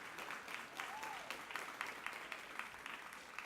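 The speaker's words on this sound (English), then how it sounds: "Now please give them a round of applause." Audience applause fills the room at a breakfast event honoring a Green Task Force, steady continuous clapping from a crowd with a faint voice or two mixed in.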